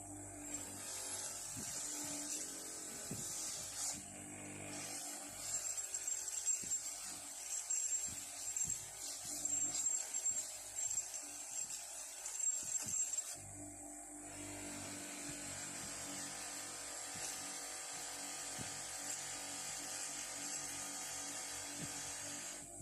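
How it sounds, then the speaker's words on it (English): A steady abrasive whirring grinds on for the whole stretch, with a rougher, louder patch of scraping in the middle as a non-woven abrasive wheel bites into the metal of a screwdriver being restored. "we're going to move on to the non-woven wheels."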